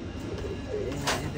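Pigeons cooing softly from a roost, a brief low murmur of calls close by with faint background hum.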